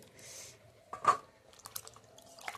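Cut eggplant pieces mixed with potato are rinsed and lifted from water, giving close splashes and drips, one louder slosh and then scattered small drops and rattles, with no talking.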